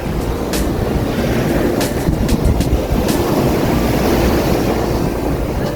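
Ocean waves at Surin Beach on Phuket's Andaman Sea coast, a loud, steady roar of heavy surf with strong wind buffeting the microphone throughout.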